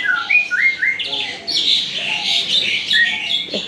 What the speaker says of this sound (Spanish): hay muchos hoteles que tienen los pajaritos así en jaula